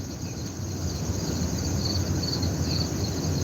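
Steady, continuous cricket chirping fills the background at moderate level outdoors by a front porch, with a faint bird call or two; no talking.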